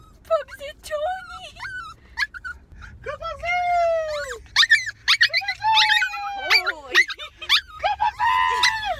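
Pug dog whimpering and yipping in a rapid series of high, wavering cries and whines, close up, with a person's voice mixed among them.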